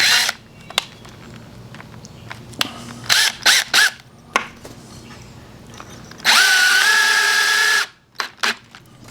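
A power drill drives screws into a deck railing, with short bursts of whirring and one longer sustained run near the end, separated by quiet gaps and small clicks of handling.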